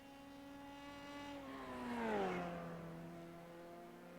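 A race car in a racing video game, on an SCCA Pro FR Americas league circuit, sweeps past with a tonal engine whine that rises in pitch and loudness and then drops lower and fades as it moves away. No voices are heard.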